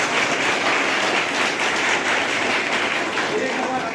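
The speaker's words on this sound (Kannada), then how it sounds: "ಜೋರಾಗಿ ಚಪ್ಪಾಳೆ." A large audience at a paramilitary tribute event bursts into loud, sustained applause that fills the room steadily with dense clapping from start to finish.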